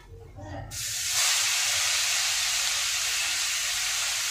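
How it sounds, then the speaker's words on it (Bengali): Onions go into hot oil already used for frying pomfret with black cumin, setting off a sudden loud hiss that swells after a quiet start and holds as a steady close sizzle. "এবার এই পেঁয়াজগুলো দিয়ে দেবো।"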